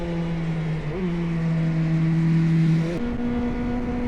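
Small £400 Korean sportsbike engine held near redline on a race track, a loud steady high drone with a brief dip and a sharp pitch jump near the end as it shifts, close and continuous.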